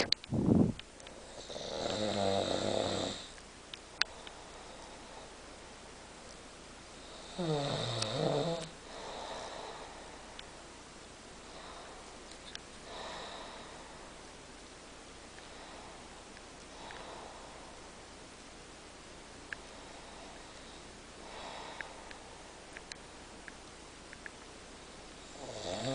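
A man asleep and snoring, slow rasping inhalations recurring every five to six seconds, the first few loud and close, later ones fainter, over a quiet room background.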